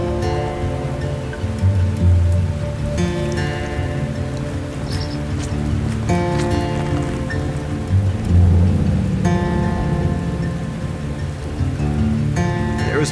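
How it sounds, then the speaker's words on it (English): Heavy rain pours steadily over the streets of New Orleans, a dense continuous wash that stays loud throughout, with tonal hums and rumbles from the city mixed underneath. "the rain was coming down pretty heavy in the city"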